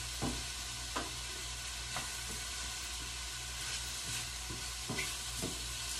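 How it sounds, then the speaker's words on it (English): Dry risotto rice toasts in a pan with mushroom and pea ingredients nearby, a faint steady sizzle broken by several soft scraping stirs, quiet and with no talk. "No liquid yet because I want to toast this rice."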